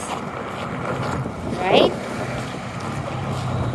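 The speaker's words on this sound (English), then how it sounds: "it's so windy there" Strong blizzard wind in the Yukon roars steadily across the microphone, with blowing snow and a brief louder gust, while a person speaks over it.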